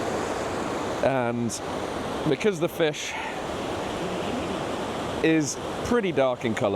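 Rushing white water of a salmon river in Scotland, a steady loud broadband roar that runs continuously under someone talking.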